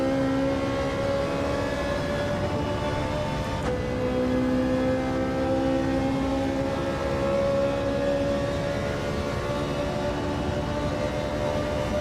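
Lamborghini Huracan Gr.3 race car engine in Gran Turismo 7 at Interlagos, a sustained high droning engine note holding steady, with a brief pitch shift partway through, close and continuous with no voices.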